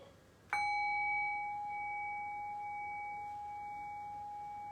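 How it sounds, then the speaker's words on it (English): A single meditation bell struck once at the start of a dharma talk, ringing out clear and sustained with a steady, slowly fading tone and no talking over it. "I'll ring the bell"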